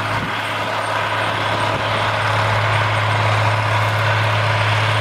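A tractor rumbles past close by, a loud steady drone with a low engine hum that holds throughout, and no talk over it.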